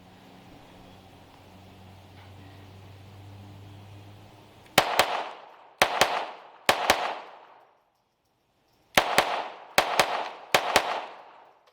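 Taurus TX22 .22LR pistol fired at a range: after a few seconds of quiet, sharp, near shots crack out in two quick strings of three or four, each with a short ringing decay.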